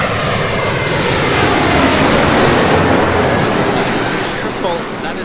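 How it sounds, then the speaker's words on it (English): Japan Airlines Boeing 777-200ER arriving at LAX from Tokyo Haneda on a retirement flight, a loud, close, sustained jet engine roar that swells slightly mid-way and eases off toward the end. "this is the 777 Japan Airlines"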